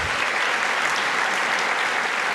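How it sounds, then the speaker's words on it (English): A room full of people clapping at a conference main-stage session, steady and loud throughout with no pauses. "Please give Unity a round of applause."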